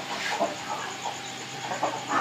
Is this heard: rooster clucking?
yes